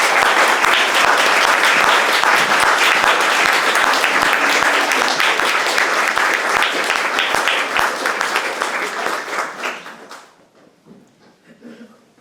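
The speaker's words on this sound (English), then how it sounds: "Give lots and lots and lots of claps and applauses for Keetje Kuipers." An audience at a poetry reading applauds for a poet in dense, loud, sustained clapping for about ten seconds before it thins out and fades to quiet.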